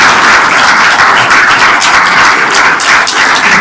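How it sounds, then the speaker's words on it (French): A church congregation claps in steady, dense applause after a baptism, loud and continuous throughout with no talking over it. "Si vous êtes content, vous pouvez applaudir quand même."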